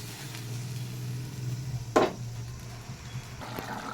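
Spice paste sizzles steadily in the pan for a potato curry, a constant low fry with one brief clatter of stirring near the middle.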